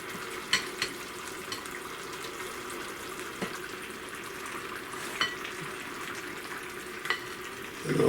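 Mixed vegetables drop into a pan of frying minced meat and onion, setting off a steady soft sizzle with a few brief clacks and taps of utensils, and a louder burst of sizzling near the end.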